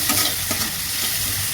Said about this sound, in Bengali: কাঁচা লঙ্কা দিয়ে ব্যাপারটাকে একটু নুন দিয়ে বেশ ভেজে নিচ্ছি, ভাজা ভাজা করে নিচ্ছি